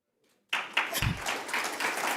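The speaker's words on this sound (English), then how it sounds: "They do indeed deserve another round of applause" An audience at a sustainability summit breaks into applause after a panel discussion, a burst of clapping that starts abruptly and holds steady and dense, fairly close, with no talk over it.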